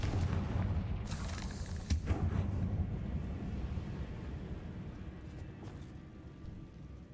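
A blasting-spell explosion in Hogwarts Legacy: a sharp boom with crackling debris near the start, followed by a low rumble that slowly fades.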